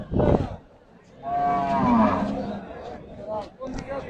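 Cattle moo close by at the Ichapura cattle market: a short low call, then a long drawn-out moo, followed by fainter lowing and background murmur.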